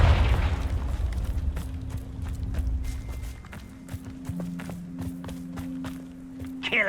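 A Confringo fire spell bursts in the video game Hogwarts Legacy as a heavy, low rumbling blast that fades over a few seconds, followed by light footsteps and sustained game music tones.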